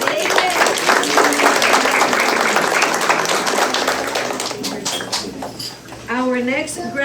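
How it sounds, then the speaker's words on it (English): Audience applause for a kindergarten graduate at a class of 2025 graduation ceremony, sustained clapping from a crowd over about seven seconds, with voices mixed in and a brief announcement near the end. "Big round of applause for Ms."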